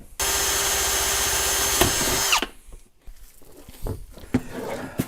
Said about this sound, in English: Okay, so now I'll drill those last 2.